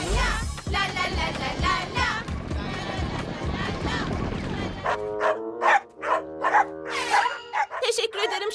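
Cartoon dogs bark in a few sharp, tonal yelps near the end, following a stretch of busy music and voices, with speech continuing around the barks.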